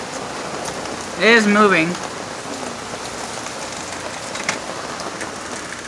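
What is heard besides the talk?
rain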